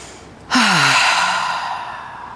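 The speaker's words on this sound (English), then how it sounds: "Using an aspirative breath, a loud open breath." A loud, open aspirative breath during a stretching session, a sudden strong rush of air that swells and then slowly fades into a long airy tail, heard alone without talk.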